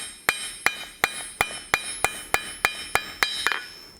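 A hammer strikes forged metal to texture it, giving about ten sharp, ringing blows at an even, steady rhythm, close and loud.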